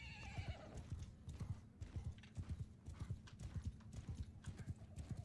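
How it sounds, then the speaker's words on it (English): A horse gallops in the Mount & Blade Bannerlord video game, its rapid, rhythmic hoofbeats thudding close and steady throughout, with a brief neigh near the start. "This is a very fast horse."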